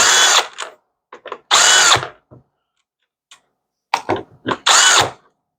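A Milwaukee M12 CPD cordless drill is triggered in short bursts, with several brief whirs and clicks of the chuck and gearing between pauses, loud and close with no talk.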